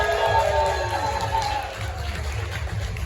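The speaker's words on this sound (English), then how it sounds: "so let's cheer for them." Crowd cheers and calls out at a cosplay event on stage, a loud busy roar that is strongest at the start and then settles into a steady hubbub.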